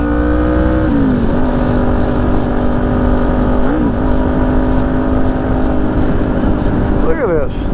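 Several motorcycles ride past on a mountain road in the Smoky Mountains along the Blue Ridge Parkway, heard over a loud, steady engine drone that shifts pitch now and then, with a brief warbling rise near the end.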